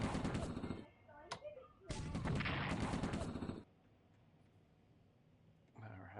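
Rapid bursts of gunfire from a war video game, two loud volleys separated by a brief pause, then quiet background with a faint sound at the end.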